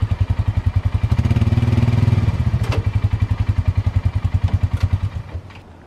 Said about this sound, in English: let's load the Ranger up on there.